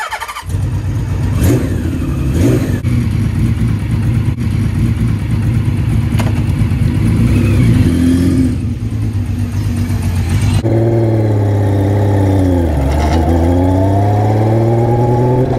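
A Millyard Kawasaki Z1B six-cylinder motorcycle is ridden with its engine revving loudly. The pitch rises and falls through the gears, drops away sharply once and then climbs again, all close and without speech.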